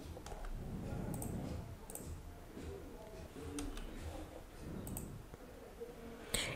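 A computer mouse clicks several times, sharp and faint, while an image is uploaded, over a soft room hum.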